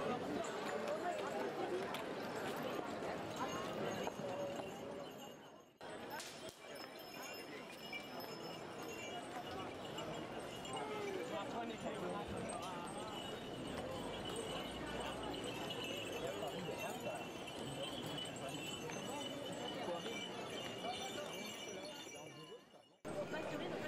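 Eighty horses harnessed in Saracen style, with bridles and collars decorated with wool tassels and ribbons, walk in a festival procession in the Alpilles. Their faint hoof clops and jingling come under steady crowd noise and talking, with a brief cut near the middle.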